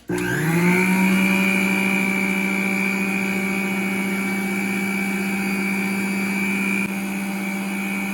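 An electric mixer beating butter and flour together for homemade cake pops, a loud steady motor whine that spins up abruptly and holds a constant pitch, close up with no talking.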